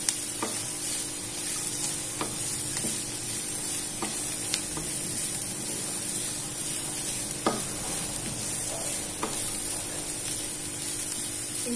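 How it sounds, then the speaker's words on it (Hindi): Vegetables frying over a full, high flame in a pan with rice, giving a steady loud sizzle broken by occasional sharp stirring scrapes and clicks. "ये फुल आंच पे फ्राई होंगी।"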